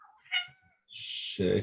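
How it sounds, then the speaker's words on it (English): A pet house cat meows indoors: a short, soft call, then a longer, louder drawn-out meow. A person's voice breaks in briefly at the end. "That's my cat, one of my cats."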